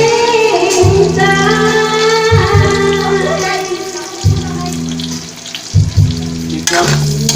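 Tofu frying in oil, a close, loud crackling sizzle running under music with a steady low beat.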